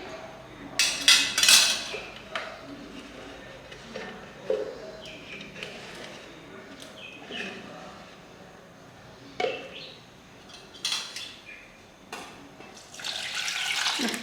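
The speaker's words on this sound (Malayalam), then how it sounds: "എന്നിട്ട് ഇതിലോട്ട് കുറച്ച് വെള്ളം ഒഴിച്ചു കൊടുക്കാം. ഈ മിക്സി ജാറിലോട്ട് ഇതിൻ്റെ ഫുള്ളെടുത്ത് ഒഴിക്കാം." Water splashes and runs into a mixer jar in short bursts, with clinks of dishes and utensils around it, fairly close.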